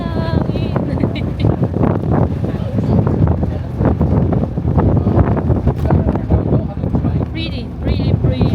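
Strong coastal wind at The Needles on the Isle of Wight, gusting and buffeting loudly across the microphone by the sea, with people talking underneath.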